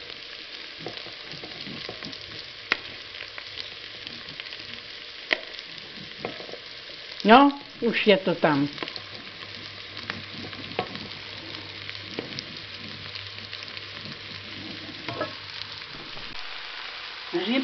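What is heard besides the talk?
mushrooms frying in a pot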